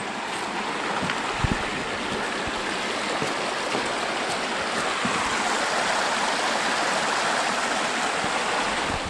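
A mountain stream flows under a wooden footbridge on a hiking trail, a steady broadband rush of water continuing evenly throughout with faint scattered knocks.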